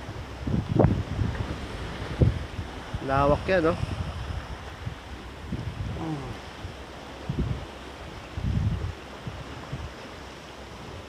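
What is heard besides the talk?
sea waves crashing against rocks on a windy coast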